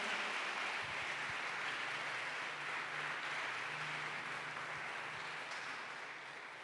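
A church congregation applauds during a sermon, a steady, dense wash of many hands that sounds distant and fairly faint, holding evenly for several seconds and tapering slightly at the end.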